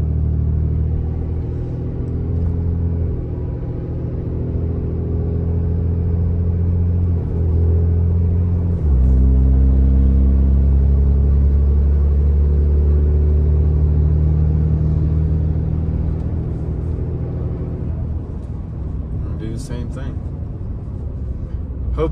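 Truck with a 68RFE transmission cruising in fourth gear at low RPM, giving a loud, steady low engine drone that shifts slightly partway through, with someone talking over it.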